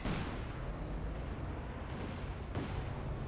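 Artillery barrage in the video game Company of Heroes 2, a British barrage landing: dense, continuous rumbling bombardment with sharp explosive bursts near 2.6 seconds, loud and steady throughout with no talk.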